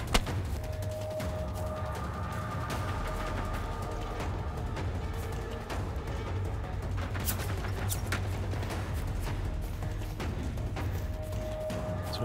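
Sustained gunfire from a Generation Zero firefight with robots: dense, continuous bursts of shots over a low rumble, with crackling impacts and no talk.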